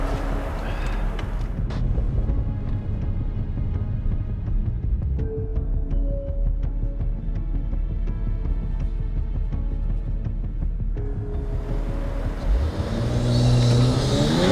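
A Mercedes-AMG CLS 53 or E 53 Cabriolet engine drones steadily, then surges as the car launches and accelerates away. The sound stays fairly subdued rather than roaring.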